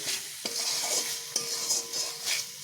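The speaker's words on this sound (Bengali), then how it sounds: "এবার এটিকেও আমি মশলার সঙ্গে ভালোভাবে কষিয়ে নেব" Pointed gourd and chhana stir-fried with spices in a hot pan, a steady close sizzle with repeated scraping strokes of a spatula at an even rhythm, no voices.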